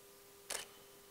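A single camera shutter click as a flash photo is taken, one short, crisp snap in a quiet room with a faint steady hum behind it.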